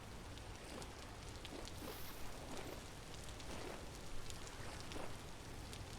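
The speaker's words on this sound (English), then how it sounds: "It's almost constantly raining here." Rain falls in the video game Vintage Story as a steady, even hiss of dense drops, faint and continuous throughout, with no voices over it.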